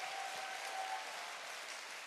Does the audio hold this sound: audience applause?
yes